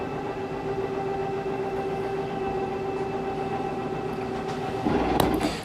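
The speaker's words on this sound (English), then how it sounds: "That is a rack and pinion style slide." A rack and pinion slide-out on a 2021 Forest River Wildwood Heritage Glen RV extends with a steady mechanical motor whine and hum, ending in a louder clunk and rattle near the end.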